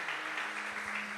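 Brief burst of congregation applause in church during a sermon, soft and somewhat distant, steady clapping filling the short moment.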